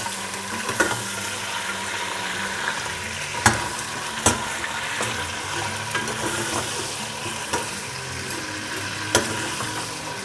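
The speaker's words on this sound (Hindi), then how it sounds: "ये इसलिए हमने लहसुन में फ्राई कर रहे हैं ताकि चिकन की स्मेल जो है ना निकल जाए।" Chicken pieces frying with garlic in a pan for palak chicken, a Pakistani dish, giving a steady sizzle with occasional sharp stirring clacks of a spoon against the pan, no voices.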